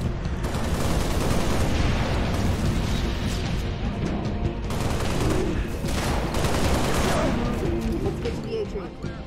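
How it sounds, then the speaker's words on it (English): Dense, continuous gunfire and booming blasts from a shotgun in the Halo Reach campaign fill the whole stretch at steady loudness, with no clear pause for a reload. "Gotta reload this shotgun."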